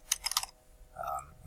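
Quick keyboard typing on a computer while working through a software install: a short burst of several close, light key clicks followed by a pause and a softer, fainter sound.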